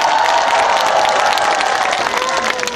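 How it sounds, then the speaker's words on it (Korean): Concert crowd at a performance at the Gimhae Hanra Vivaldi spring festival applauding and cheering, a loud, steady, dense wash of clapping and shouts lasting throughout without pause. "박수 한번 주세요."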